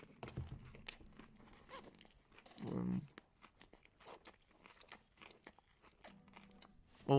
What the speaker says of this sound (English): Oh, I'm chewing into the mic.